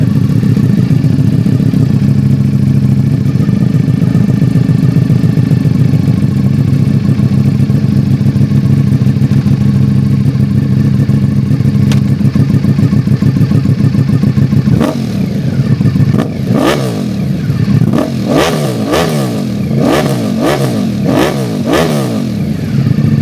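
A 2025 Ducati Panigale V4 with an Arrow titanium exhaust idles loudly and steadily at close range, then gives a series of sharp, rising revs near the end.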